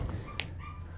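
A young pet puppy gives a brief, faint yap in a room, a quick, thin cry heard once against a steady background hum.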